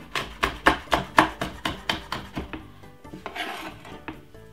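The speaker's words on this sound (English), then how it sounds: "Cut it up very small." Peppers and spring onion being chopped very finely on a board, a close, quick run of about a dozen sharp knife strikes in steady rhythm, thinning into lighter scraping and taps at the end.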